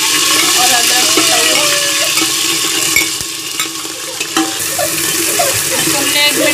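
Ginger-garlic paste with coriander and ginger powder frying in a pan for vegetable biryani, a steady close sizzle with scraping stir strokes throughout, briefly dipping midway.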